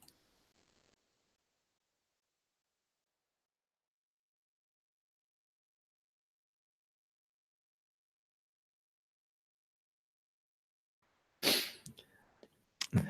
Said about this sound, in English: That was a very nice sneeze.